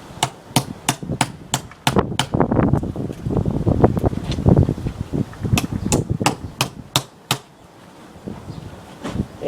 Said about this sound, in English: This other wood here, up here, is like hammering concrete.